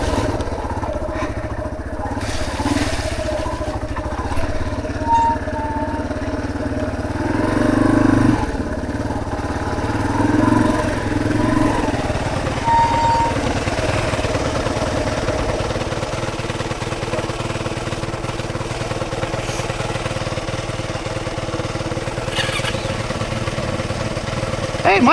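A motorcycle engine idles high on a trail through Green Mountain, its steady mid-pitched drone running continuously and fairly close for the whole stretch, with faint voices in the background.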